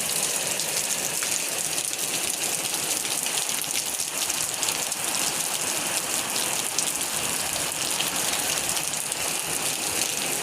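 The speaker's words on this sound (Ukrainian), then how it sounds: "Задощило так конкретно." Heavy rain falls steadily on a vegetable garden for the whole stretch, a dense, even hiss of drops hitting surfaces with no pauses and no voices.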